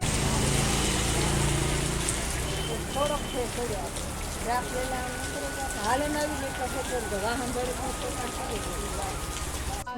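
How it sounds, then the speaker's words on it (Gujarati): Steady heavy rain pours throughout, a dense hiss with a person talking over it at times. "કેવો વરસાદ આવી ગયો"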